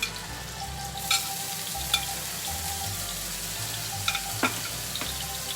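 Garlic and onion fry in a pan with a constant close hiss and sizzle. A few brief clicks from a spoon or pan break in now and then, and no one speaks.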